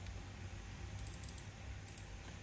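Soft, quick keystrokes on a computer keyboard come in a few short bursts over a low steady hum, faint and close, as HTML is typed into a text editor.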